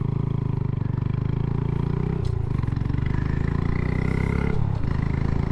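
A Honda Grom motorcycle engine drones steadily at close range, with two brief throttle blips breaking the even buzzing note partway through.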